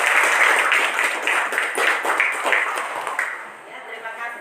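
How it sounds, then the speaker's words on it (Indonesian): Classroom applause for a student named Rizky, a burst of clapping from a small group close by that thins and fades toward the end, with voices mixed in. "Oke, tepuk tangan buat Rizky."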